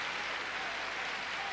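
A tennis crowd applauds continuously, a dense even wash of clapping at moderate distance that holds steady through the short stretch, with no distinct voices on top.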